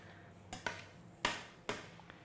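A utensil stirs eggs in a large pan over lowered heat, giving four quiet, separate metallic clinks and scrapes in an otherwise calm kitchen.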